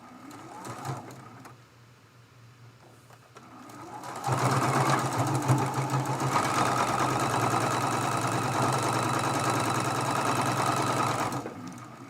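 Sewing machine running a seam on a Dresden plate quilt block pieced from charm squares, starting after a few seconds of handling and then humming steadily and close for most of the stretch.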